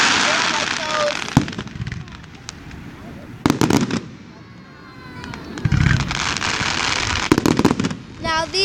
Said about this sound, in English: Okay, the grand finale now.